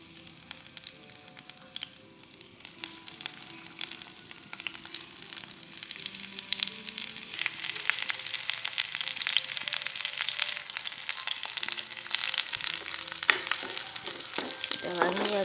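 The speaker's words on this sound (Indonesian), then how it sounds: "Kita panasi minyaknya, kita masukkan bawang putih" Garlic frying in hot oil makes a constant crackling sizzle that grows denser and louder over time, close up, with faint background voices at times.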